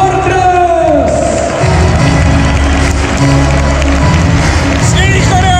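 A hockey arena crowd applauds and cheers a fan choreography, a loud dense roar of clapping and shouting filling the hall throughout.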